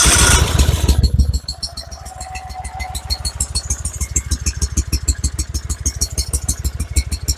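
A Kohler Command engine on a Dixon 5022 zero-turn mower, running rough and low on power, cranks with a loud burst and then settles into a steady, rapid, chugging idle, close and continuous.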